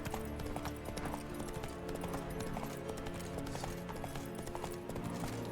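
Roach the horse trotting in The Witcher 3: Wild Hunt, a rhythmic series of hoof clip-clops repeating steadily throughout, layered over game music and ambience, with a faint voice in the background.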